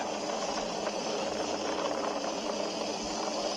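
SpaceX Falcon 9 rocket engines roar during a launch climbing through supersonic flight, a steady broad rumbling roar that holds constant and loud throughout with no pauses.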